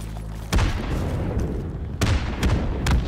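Gunfire and heavy booms from the World War I shooter game Isonzo, a few loud separate blasts over a dense battle rumble with no talking.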